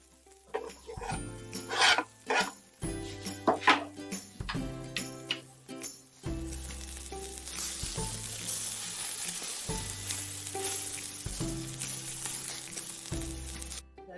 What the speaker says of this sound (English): And now I add the garlic to the onions already in the pan.